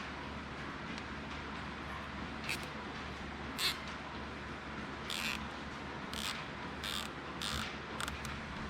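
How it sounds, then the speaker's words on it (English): Black zip ties are ratcheted tight over intake vacuum hoses during prep of a Zetec engine for a Vanagon swap, giving a scattered series of sharp plastic clicks over a low steady background hum. "Use black zip ties and trim them."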